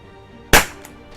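A single sharp crack from an HDP50 gas pistol firing one shot, loud and close after quiet. The bang decays quickly with a short tail.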